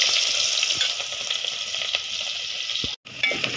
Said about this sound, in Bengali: এখন এখানে পেঁয়াজ দিয়ে দিই